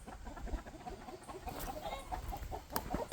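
Chickens clucking in a backyard coop, a busy cluster of agitated clucks and squawks close by, fairly faint overall, without talk.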